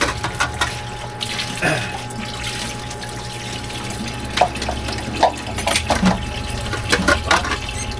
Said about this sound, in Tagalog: Hugas ng pinagkainan.